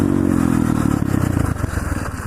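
A pit bike motorcycle on the move in cool weather, its small engine loud and close with a rapid buzzing pulse that slows and settles slightly as it rides on.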